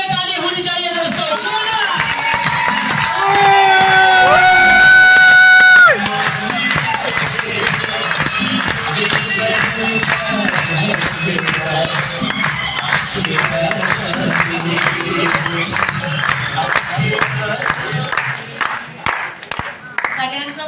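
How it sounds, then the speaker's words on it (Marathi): Audience at a stage event clapping and cheering loudly and continuously, with crowd noise and music layered throughout and a voice over the top. "मी स्टेजवर आल्यापासून तुम्ही टाळ्या वाजवताय आणि एवढे एक्साइटेड आहात"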